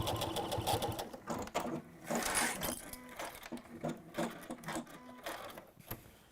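A sewing machine runs in short bursts of fast, rhythmic stitching, close and fairly quiet, with brief pauses between runs.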